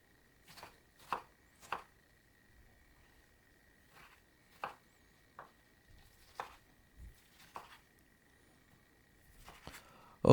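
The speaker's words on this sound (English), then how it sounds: "I'm going to cut into slices and then make small dices" A knife chops a root vegetable into slices and small dice on a board: sharp, isolated thuds at uneven intervals, close and fairly quiet against a faint steady hum, with near silence between strokes.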